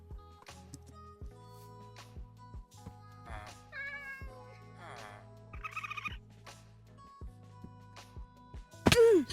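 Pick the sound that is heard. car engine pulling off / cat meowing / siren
cat meowing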